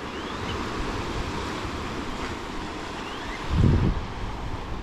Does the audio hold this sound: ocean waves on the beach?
yes